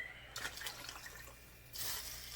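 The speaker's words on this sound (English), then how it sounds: "I'm going to add some more water to it" Water splashing and pouring into a pot in two short bursts, a quiet trickle between them, fairly close with no talking.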